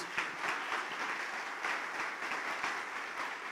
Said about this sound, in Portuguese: Eu queria pedir que você aplaudisse o Senhor pela vida desses irmãos.